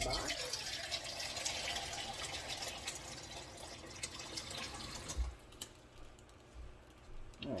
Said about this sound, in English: put a little more water in here